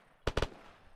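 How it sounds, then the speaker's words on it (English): Gunfire in the ArmA military video game comes as a fast burst of three sharp, fairly distant shots in quick succession, then a faint tail. "Just keep firing. Keep firing"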